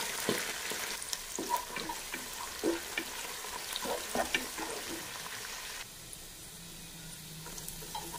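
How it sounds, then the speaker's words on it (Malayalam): Onions, garlic, green chillies and curry leaves frying in oil for a dal and chicken curry, a steady bright sizzle with crackling pops and stirring scrapes, close by, easing to a softer hiss near the end. "സവാള കരിയാത്ത വിധം അത്രയും ഡ്രൈ ആക്കിയിട്ട് നമുക്ക് മൊരിച്ചെടുക്കുന്നത്."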